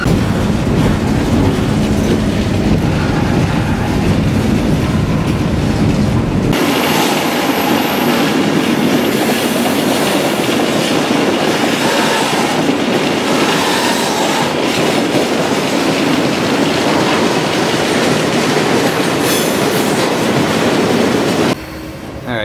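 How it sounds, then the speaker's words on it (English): A train nearing Keddie Wye rumbles steadily along the rails at night, a loud continuous roar with rhythmic clatter that shifts and swells midway, running on without voices. "Now the train is almost at the famous Keddie"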